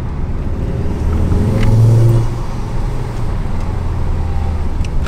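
A Ford Focus ST fitted with Hardrace engine mounts, heard from inside as the engine hums steadily and swells briefly in a low rev rise before settling back to a constant drone, with no talking.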